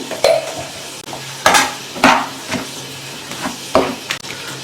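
Grated coconut and ginger garlic paste fry in oil for mutton masala while a spoon stirs and scrapes the pan in about half a dozen distinct strokes over a low sizzle, close and clear.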